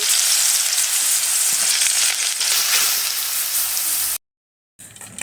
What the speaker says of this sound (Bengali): বাদ বাকি যে আলুগুলো ছিল সেগুলো আমি একইভাবে ভেজে তুলে নেব।